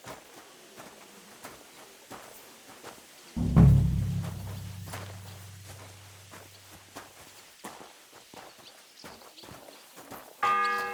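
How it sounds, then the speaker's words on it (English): A single deep church bell toll rings out in Kingdom Come: Deliverance II at Trosky, its low hum lingering for several seconds over soft footsteps and faint ambient bustle. "The first bell"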